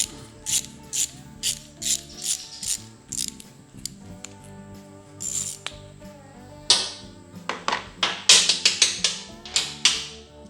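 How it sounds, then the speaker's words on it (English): Ratchet loosening a gummed-up nut bolt on an old lawn mower, close and loud, in rapid bursts of clicking strokes with short pauses, growing faster and sharper toward the end. "Let's bust that nut bolt off and see what we got."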